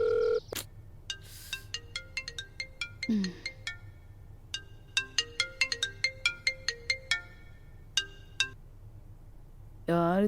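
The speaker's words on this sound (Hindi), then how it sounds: "जब लोगों को डोरबेल की आवाज सुनाई ना देना तो फोन की ही बेल देनी पड़ती है।" A phone ringtone plays a repeating electronic melody of bright, plucked tones in bursts, with voices occasionally heard around it.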